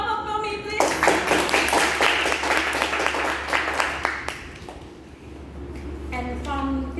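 Audience clapping for a speaker at a talk, a burst of dense applause that starts abruptly, thins into scattered claps and fades out, with speech at the start and end.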